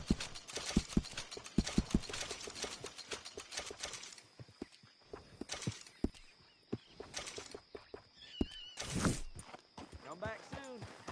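A horse walks in Red Dead Redemption 2, hooves clopping in an uneven run of close steps, then thinning to scattered thuds amid ambient game sounds and brief bird-like calls.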